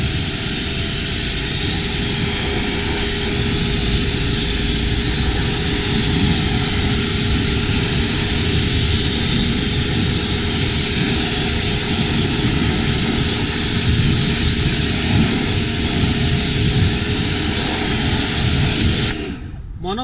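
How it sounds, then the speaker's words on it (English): A pressure washer sprays wheel cleaner off a car wheel, a steady loud broadband hiss and roar lasting about nineteen seconds before cutting off abruptly. "we're going to use our pressure wash to blast it off"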